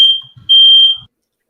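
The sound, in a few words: alarm going off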